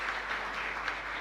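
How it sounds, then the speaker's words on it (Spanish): Applause from a Catholic Mass congregation at the Sagrada Familia church in Luque, a steady, dense wash of clapping heard from a short distance with no voices over it. "Un fuerte aplauso para nuestra comunidad entonces."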